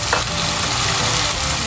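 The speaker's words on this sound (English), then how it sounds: "and stir well" Blended tom yum paste with an ikan bilis stock cube being stirred in a hot pot, a steady loud sizzle and frying hiss with scraping stir noise, close and continuous.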